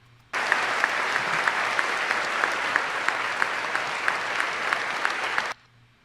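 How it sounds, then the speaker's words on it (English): A studio audience claps in a steady, dense burst of applause that starts abruptly, holds at an even level for about five seconds, then cuts off sharply. "when the audience was clapping"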